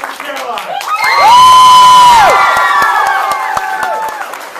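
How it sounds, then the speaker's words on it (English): An improv comedy show crowd breaks into loud cheering and whooping over applause, with high sustained shouts swelling, then easing into clapping. "Applause for Caroline."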